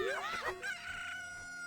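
A cucco chicken in the Zelda: Ocarina of Time video game lets out a rising, crowing squawk, followed by a sustained warbling tone over faint background game audio.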